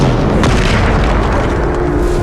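A Bombarda spell explosion in the video game Hogwarts Legacy, a loud, dense booming blast that fills the whole stretch with rumbling roar and no pause.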